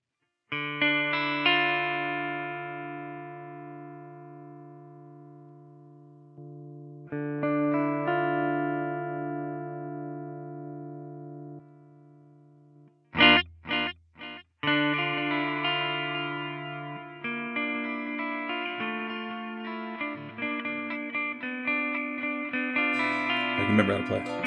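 An Ibanez AX7221 seven-string electric guitar plays a spooky clean tone with chorus: long ringing chords that fade slowly, a few quick muted strums, then fuller sustained chords, with no voice over them.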